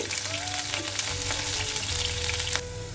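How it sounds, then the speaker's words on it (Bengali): Chopped onions frying in oil in a kadai for a shrimp and drumstick curry, a dense continuous close sizzle with occasional stirring scrapes and a brief louder burst near the end. "পেঁয়াজটা একটু ভেজে নেব"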